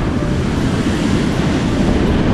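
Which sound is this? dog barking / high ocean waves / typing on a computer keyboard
high ocean waves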